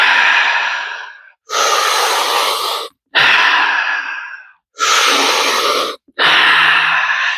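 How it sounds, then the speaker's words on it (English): Deep, continuous breaths in conscious connected breath work, five long loud inhales and exhales close to the ear, each about a second or more, separated by brief pauses. "you could just do conscious connected breath work, which is just continuous deep breathing"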